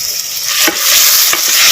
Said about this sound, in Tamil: வெங்காயம் தக்காளி பழம் நல்லா வதங்குறது